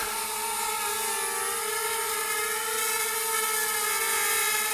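DJI Spark drone with propeller and finger guards descending to land, a close, loud, steady high-pitched propeller whine with several layered tones and no talk.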